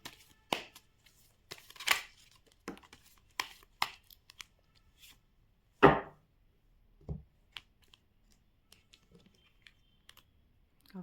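Tarot cards are shuffled by hand in short, irregular bursts of soft riffling and slapping, close and fairly quiet, with brief silences between them.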